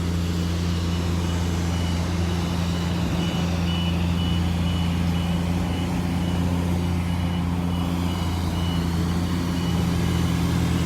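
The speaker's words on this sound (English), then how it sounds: "Oh, noisy construction." Construction site traffic on a Naples, Florida street, with a truck engine droning steadily beneath repeated electronic reversing beeps, moderately distant and continuous with no talking.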